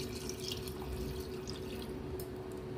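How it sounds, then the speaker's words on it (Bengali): Water is poured into a mutton curry with potatoes in a pressure cooker, a steady, close, continuous liquid wash with a faint dripping splash throughout. "এইবারে এর মধ্যে জল দিয়ে দেব।"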